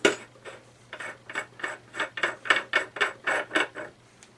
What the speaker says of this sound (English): So now you can unscrew this.